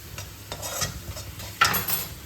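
Spatula stirring fried onions with ginger garlic paste in a pan for mutton biryani, with a soft sizzle under repeated scraping strokes and a louder scrape near the end, close and without talk.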